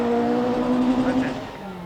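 A 1983 rally car on the Mt Coot-Tha stage of the James Hardie Rally accelerates away with a steady engine drone, heard under continuous commentator talk.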